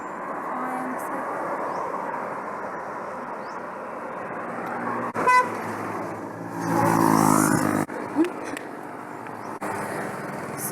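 Steady roadside highway traffic rumbles on, and a louder vehicle swells past close by near the middle. Brief sharper bursts cut through the continuous engine and tyre noise.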